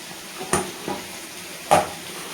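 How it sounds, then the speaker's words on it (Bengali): Jackfruit and potato are being fried with spices in a pan, with a soft sizzle underneath and a few sharp clinks and scrapes from a stirring spoon against the metal. "এই যে মশলাটা কষা হচ্ছে"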